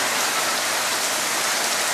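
Steady rain pours down on a rainy Sunday, a dense, even hiss of drops striking surfaces close by, continuous and fairly loud with no talking over it.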